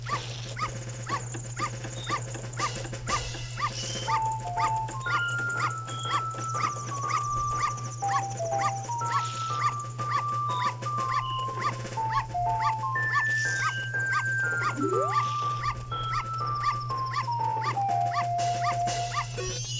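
A dog yips and barks in Zelda: Majora's Mask while a bright melodic game tune plays over a steady low hum, the barks short and repeated under the music.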